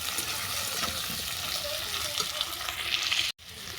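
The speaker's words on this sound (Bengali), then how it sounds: "আলু আর দিলাম কুমড়ো এই সবজিগুলো সব ভালো করে ভেজে নেব" Potato and pumpkin pieces frying in a pan give a dense, steady sizzle close by, cutting out abruptly for a moment near the end before resuming, with no talking.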